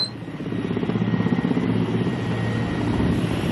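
Helicopters over an airport, their loud, close rotor chop pulsing steadily throughout against a constant engine drone, with no talk.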